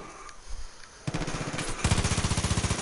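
Heavy gunfire from a big gun in Far Cry 5: loud, rapid automatic bursts with a steady rhythmic pounding that grows more intense toward the end, with no talk.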